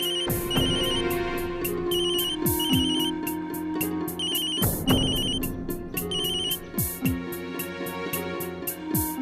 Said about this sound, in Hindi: स्नेहा जी प्लीज एक बार तो फोन उठा लीजिए